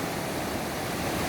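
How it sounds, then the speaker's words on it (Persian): A mountain river cascades down from a valley in a dense, unbroken roar of rushing water, loud and steady throughout, with no voices. "دریایی که از دره خالقداد می آید با یک وجاهت بلند، شرشره زیاد"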